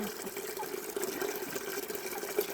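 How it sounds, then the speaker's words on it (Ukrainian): Water pours for poultry on a small farm, a faint, steady trickling and splashing into a container that runs the whole time at low level. "закінчили наливанням води птиці"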